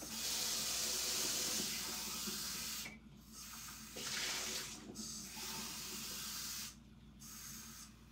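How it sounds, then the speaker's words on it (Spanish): Water hissing from a tap in bursts, a steady broadband spray that stops and restarts several times, close and fairly quiet with no talk. "Voy a coger un poco agua, que tengo un poco sed."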